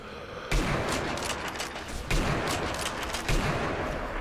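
Sustained gunfire from the video game Sniper Elite, with loud, dense bursts of shots and impacts that swell sharply at several points and keep going without a break.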